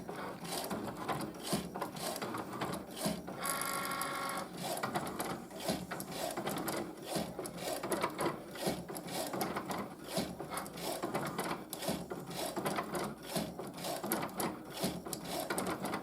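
A Cricut Maker cutting machine engraves acrylic with a continuous, faint mechanical whirring and scratching, and a rhythmic, ratchet-like pulse running throughout.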